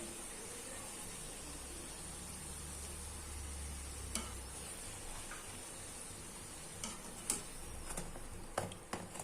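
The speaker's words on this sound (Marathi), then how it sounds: "अशाच पद्धतीनं आपल्याला संपूर्ण पुऱ्या अशाच तळून घ्यायच्या आहेत" Puris deep-frying in hot oil give a soft, steady sizzle and hiss, faint and close, with a few sharp ticks and clinks from the pan near the end.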